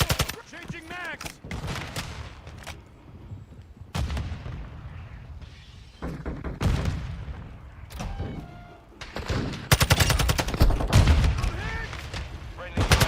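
A TAQ-56 rifle fires in Call of Duty Modern Warfare II in sharp, loud bursts, some short and some sustained, with radio-style voices talking between the volleys.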